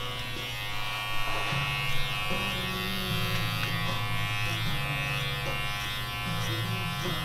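Electric hair clippers buzz steadily up close, the tone shifting slightly as they cut through hair.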